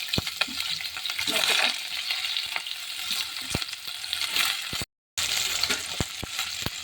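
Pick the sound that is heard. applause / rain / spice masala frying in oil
spice masala frying in oil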